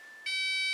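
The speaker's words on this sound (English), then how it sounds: "When the alarm system activates, you'll hear the sound from the keypad." A Texecom alarm keypad sounding its alarm, a steady high-pitched electronic tone that jumps abruptly louder and brighter partway through, heard alone.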